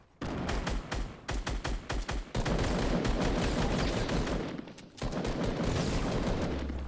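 Gunfire in the Fortnite video game, rapid bursts of automatic shots in quick volleys followed by a long sustained barrage, loud and dense throughout.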